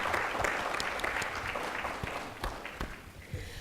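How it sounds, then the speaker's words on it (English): Audience at the Arthur Ashe Institute for Urban Health's 25th anniversary celebration gives a fairly quiet, steady round of applause with distinct individual claps, slowly thinning out. "I think we all deserve a really wonderful round of applause"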